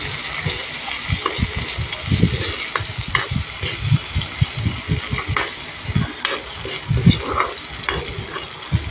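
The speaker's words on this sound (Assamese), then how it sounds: "চিমত দি পিঁয়াজ কেইটুকুৰা অকণমান ৰঙচুৱাকৈ ভাজিম অলপ টাইম।" Onion pieces fry in a pan while being stirred, a steady loud sizzle broken by repeated scraping and stirring knocks throughout, with no talking.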